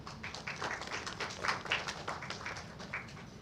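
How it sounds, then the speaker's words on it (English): A hotel press meet audience applauds the sponsors with a short spell of scattered clapping, quiet and somewhat distant, the individual claps audible as uneven taps over roughly three seconds. "A round of applause for our sponsors as well."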